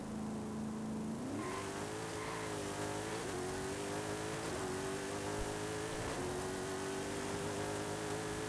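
A Mercury Cyclone Spoiler muscle car in Forza Horizon 5 idles briefly, then accelerates hard in a tunnel roll-race, its engine note rising steadily through several gear shifts, loud and continuous throughout.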